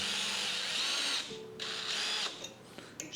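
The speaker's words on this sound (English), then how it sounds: "let's drill a hole." A power drill bores a hole during car-tuning work, its loud whine running for about a second before breaking into shorter, uneven bursts as the bit bites and stops.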